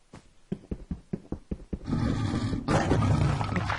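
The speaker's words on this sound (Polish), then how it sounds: "A tu, a tu jest lew." A lion from a Minecraft safari survival game lets out a loud, close roar that swells and rumbles for a couple of seconds, preceded by a run of sharp, rhythmic thumping steps.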